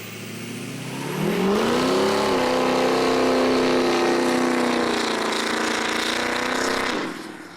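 A tuned truck engine fires up and revs hard, with a rising then sustained loud roar under acceleration for several seconds before it cuts off abruptly, close by outdoors with no talking.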